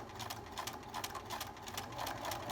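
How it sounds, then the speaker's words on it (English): A sewing machine runs steadily while stitching a pattern seam with pins left in place, its rapid needle clatter forming a fast, even rhythm up close throughout. "I carefully am sewing over these pins"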